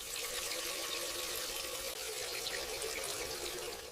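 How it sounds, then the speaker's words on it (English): Fruit being washed under running water from a kitchen tap, a steady close hiss and splash of flowing water lasting the whole time with no talking. "I wash the fruit."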